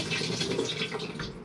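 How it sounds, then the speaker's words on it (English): A big flush of water through a motorhome cassette toilet in an Auto Trail Tribute F70, a steady close rush of running water filling and washing the bowl, heard alone for a second and a half. "just give it a big flush."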